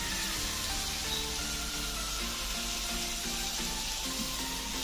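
Spices and fried cauliflower sizzle in a pan while being sautéed, a continuous close crackle and hiss of hot oil, steady and moderately loud, with no voices.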